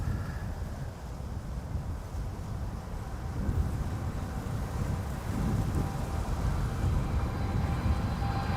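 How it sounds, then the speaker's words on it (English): Gusty wind buffets the microphone at an airfield, a continuous low rumbling roar that swells and eases without any other clear sound. "the wind I'm currently feeling is just 12 knots"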